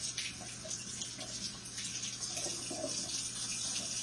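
Kitchen tap water runs steadily into a cold measuring cup, a continuous close hiss and splash with a faint low hum underneath and no talking.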